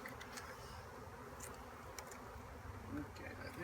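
Honeybees in a beekeeping hive buzz in a faint, continuous drone close by, with no clear talk over it.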